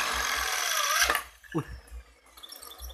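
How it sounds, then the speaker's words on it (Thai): A power drill bores holes in the frame for a mirror lock, giving a loud high whir that stops abruptly, followed by sparse knocks and scraping handling sounds, heard close by. "เจาะเพื่อที่จะทำตัวล็อกกระจกนะครับ"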